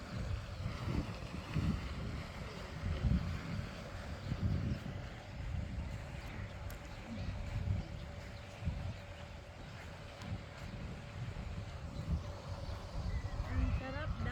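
Steady wind blows and buffets the microphone with low rumbling gusts at Love Lake, Al Qudra, while a person talks over it throughout.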